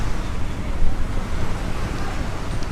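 Wind and surf at Jomtien beach on a sunny, breezy day, heard as a steady broadband rush of wind buffeting the microphone over the wash of waves, continuous and fairly loud throughout.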